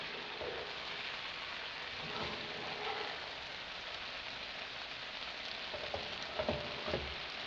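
Okra frying in a pan gives a quiet, even sizzle like light rain, with a few soft knocks and scrapes near the end as it is turned once.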